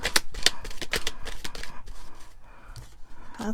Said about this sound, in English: Wow, that's only one shuffle.